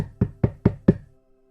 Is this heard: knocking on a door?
yes